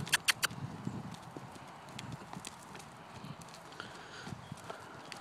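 Young colt loping, its hoofbeats a steady soft clip-clop at middle distance, with a few sharp close knocks at the start and a person calling out faintly now and then.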